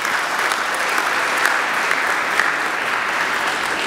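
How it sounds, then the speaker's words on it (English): Steady, full audience applause at a Martin Luther King Jr. convocation, a dense even roar of clapping held at constant loudness throughout. "Let's give a round of applause to Dr."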